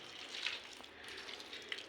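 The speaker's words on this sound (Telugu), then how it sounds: "ఇప్పుడు బాగా మరుగుతున్న నీళ్ళు ఇలా పోసేయాలి" Boiling water pours over cauliflower in a kitchen, a continuous soft gushing splash that runs steadily for a couple of seconds, close but quiet.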